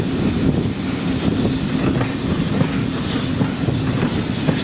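A Bluebell Railway heritage train arriving at Horsted Keynes rumbles and rattles steadily along the track, heavy wind noise buffeting the microphone throughout, with no voices.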